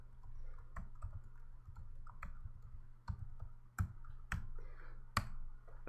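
Rapid typing on a computer keyboard while Python code is entered, with irregular clicks and sharper key strikes over a steady low hum, fairly close and moderately quiet.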